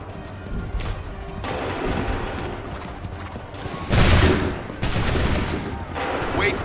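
Musket volleys ring out in Assassin's Creed III Remastered, loud bursts of massed gunfire that land in separate blasts with short gaps between them. Shouted orders and battle noise fill the background.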